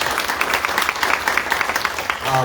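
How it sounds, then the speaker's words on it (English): Audience applause for two presenters at a ward community meeting on a grand jury process, a moderate patter of clapping from a modest crowd, fairly close, easing off toward the end as a voice begins. "Would you mind giving a round of applause to Chief Mylett and Gert Wilms for their presentations?"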